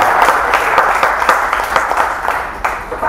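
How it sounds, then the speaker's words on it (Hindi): Audience applause fills a poetry and comedy recital, a steady dense patter of many hands clapping throughout the short stretch, loud and close without fading. "आप सब तालियां बजा दीजिए"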